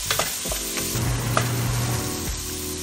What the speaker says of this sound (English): Cook until the onion is translucent.